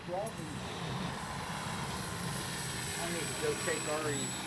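A Dynam Tiger Moth RC biplane flies overhead with a steady, continuous engine drone throughout, moderately distant, with a faint voice briefly audible.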